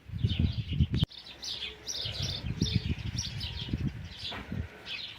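A young smoky pigeon chick calls with repeated high, thin chirps, while lower cooing and rustling from nearby birds run underneath and a sharp click cuts in near the start.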